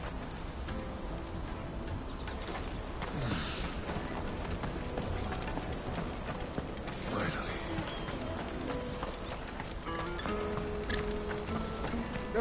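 Horse hooves clip-clop steadily in Final Fantasy 16, a fairly faint, regular rhythmic clatter over a busy game soundscape of mechanisms and ambient noise, continuing the whole time.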